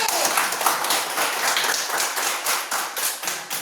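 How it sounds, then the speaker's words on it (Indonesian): A classroom full of people claps steadily, a dense patter of hands that keeps going throughout. "Ya, tepuk tangan untuk Desi"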